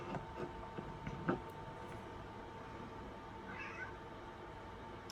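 A house cat meows a few times against a quiet indoor background, the short calls faint and somewhat distant with a soft ticking underneath.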